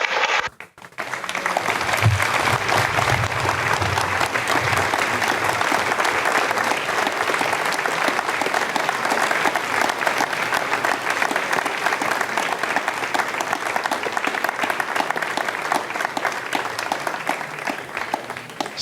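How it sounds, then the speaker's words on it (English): Sustained applause from staff in the Jupiter control room during an Ariane 5 launch with two communications satellites, a dense steady clapping crowd lasting throughout after a brief sharp start. "you heard the applause from the people here in Jupiter"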